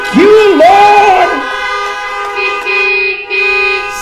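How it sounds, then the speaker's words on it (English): Car horns honk at a drive-in parking-lot worship service, loud close toots overlapping with sustained tones and a rising wavering pitch at the start, several horns sounding together. "wouldn't you honk your horn and say,"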